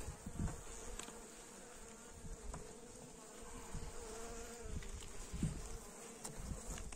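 Bees buzzing around a hive frame during spring beekeeping, a steady dense drone with individual insects flying close past now and then, no talking.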